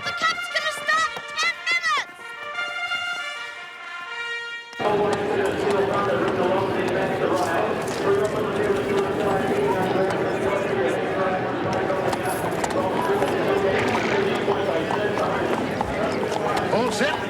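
Horse hooves clip-clop steadily in a busy outdoor setting before a horse race cup, with a continuous rhythmic patter under ambient noise. People talk throughout, and a short musical passage plays at the start.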